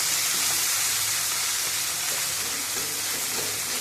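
Pieces of fish frying in a pan give a constant, close crackling sizzle of hot oil, with the odd faint clatter and no voices.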